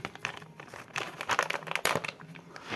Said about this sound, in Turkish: Göründüğü gibi açıyorum şu an poşetimde.